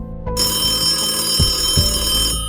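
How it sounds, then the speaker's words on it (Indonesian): A telephone rings nearby, its bell giving a steady sustained ringing with faint repeated clicks underneath, loud and continuous for a couple of seconds. "Telepon berdering."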